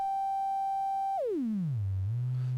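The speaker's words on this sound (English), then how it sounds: "So that's just a sine wave," A steady pure sine tone from a modular synth complex oscillator holds, then sweeps smoothly downward in pitch and settles into a low, richer buzzing drone, alone and clear.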